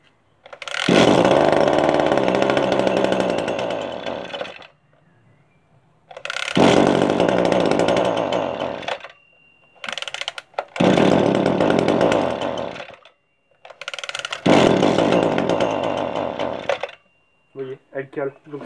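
Small engine running in loud bursts of several seconds each, cut by short gaps as a finger blocks its exhaust pipe and it stalls; buzzy, close and steady while it runs, with a voice talking nearby.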